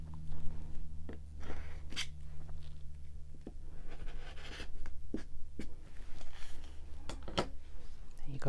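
Rotary cutter trimming quilting cotton half rectangle triangle units against a 2 1/4 by 4 inch ruler on a cutting mat, heard as several short, close crisp slicing and scraping strokes over a steady low hum.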